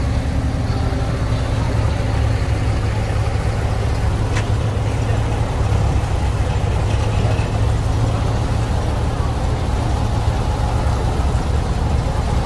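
Vintage Volkswagen T2a bus idles at a classic car meet, a steady low rumble with no clear rhythm, close and fairly loud throughout.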